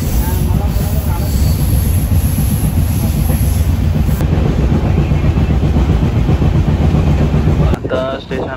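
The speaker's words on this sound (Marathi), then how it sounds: "पण आता रोहा ट्रेनमध्ये दिव्याला बसतोय." Steady loud rumble and rattling of wheels and carriages inside a moving, crowded Roha passenger train, continuous throughout, with a brief shift in the noise near the end.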